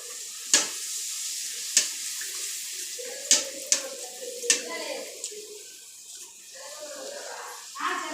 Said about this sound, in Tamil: இப்போ நம்ம பூரி போட்டுக்கலாம்.